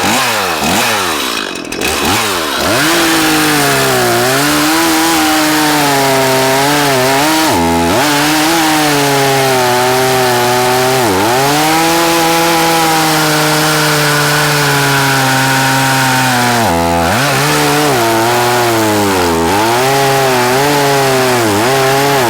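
A chainsaw runs continuously at full throttle while cutting firewood, loud and close, its engine pitch dipping briefly a few times as the bar bites into the wood.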